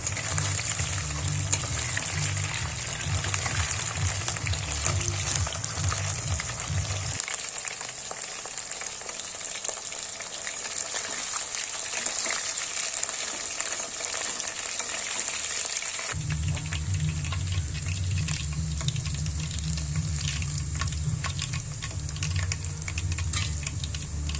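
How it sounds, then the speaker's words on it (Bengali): Coated chicken pieces for chili chicken fry in oil in a kadai, a continuous dense crackle and sputter throughout, close and steady, with a low background hum that drops out midway and returns. "তারপর সেগুলো একে একে কড়াইয়ের মধ্যে দিয়ে ভালো করে উল্টে পাল্টে লাল লাল করে ভেজে নিতে হবে"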